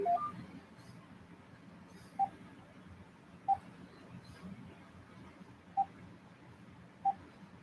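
Key tones from an AT&T EL52119 cordless telephone, a handful of short, faint electronic beeps spaced a second or two apart against quiet room noise.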